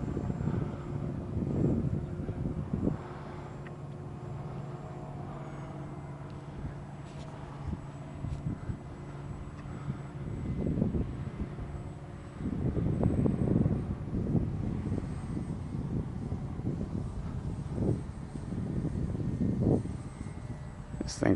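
An E-Flite Timber radio-controlled model airplane in flight, its motor a faint, wavering drone that swells and fades in passes, mixed with gusty wind buffeting the microphone.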